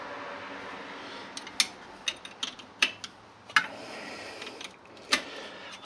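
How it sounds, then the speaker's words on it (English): Ratchet clicks and metallic ticks from loosening four bolts on an MGB gearbox crossmember, several short, faint bursts spread irregularly over a quiet low hum. "all I need to do is just loosen these four bolts off"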